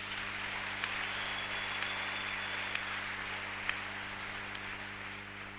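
Church congregation applauding in worship, a steady dense wash of many hands clapping throughout with no talk over it.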